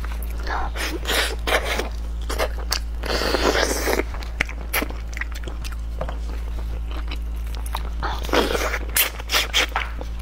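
Crunchy bites and chewing on a chicken head with bones, close and crisp, repeated crackling crunches and wet chews over a low steady hum, with a little quiet talking between bites.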